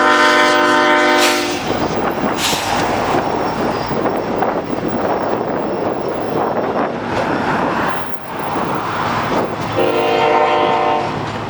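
A large freight train in La Grande, Oregon, hauled by at least four locomotives, rumbles past close by with clattering wagons, its loud multi-tone horn blaring at the start, briefly again early on, and once more near the end.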